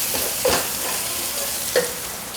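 Whole spices (bay leaves, cloves and black cardamom) fry in oil for chicken biryani, giving a steady close sizzle with two brief stirring scrapes, no talk.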